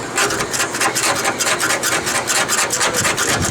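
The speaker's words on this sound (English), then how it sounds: "Put some on a rag and then wipe it. You have to scrub it." A rag scrubs hard and rhythmically against the rusty metal of a third-generation Camaro T-top, a steady, close, rasping rub with quick back-and-forth strokes and no talk.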